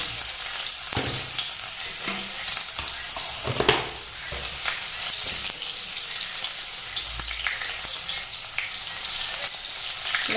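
Onion sizzles in hot oil with a five-spice panch phoron tempering, a continuous close frying hiss with a few sharp crackles and faint clinks, no talking.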